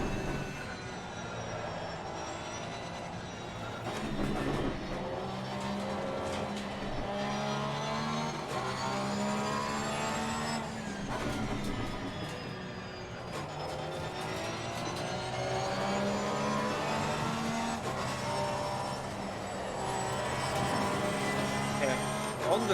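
Continuous roar of a race car engine in Assetto Corsa Competizione, rising and falling in pitch as it revs and shifts, steady and fairly loud throughout.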